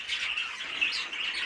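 Caged pet birds, including an opaline cinnamon sky blue outcross bird, chirp and tweet in rapid, continuous bright calls close by, with no talking.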